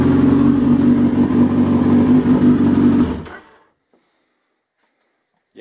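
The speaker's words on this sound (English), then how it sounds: "Yeah, but that was noisy." A Suzuki Hayabusa motorcycle engine runs loud and close with a rough, noisy hum for about three seconds, then cuts off into near silence with a faint click at the end.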